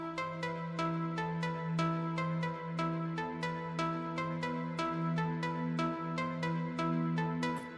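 Detuned metallic lead synth from a Hype plugin in an Afro tech house production, playing a bright, ringing repeated melody with sharp plucked attacks over a sustained low tone, steady and moderately loud throughout.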